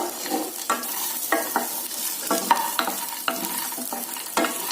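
Peanuts frying in oil in a heavy pan over low heat, a soft sizzle under repeated sharp scraping strokes of a spoon stirring, close and clear with no talking.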